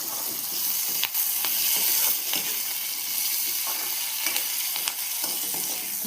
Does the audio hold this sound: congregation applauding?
no